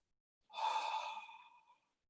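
A single long, breathy exhale pushed out through an open mouth in ujjayi style, like fogging a mirror, with a soft throaty hiss that swells and fades over about a second and a half, close and quiet, no talking.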